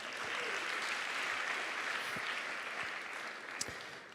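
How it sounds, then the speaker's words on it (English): Audience at a leadership seminar giving itself a round of applause, dense sustained clapping that fills the room evenly for several seconds and tapers slightly at the end. "Give yourself a round of applause."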